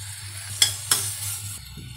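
Plenty of onions sauté in a pan with a steady sizzle, broken by two sharp clinks of a spoon stirring against the metal, close and clear with no voices.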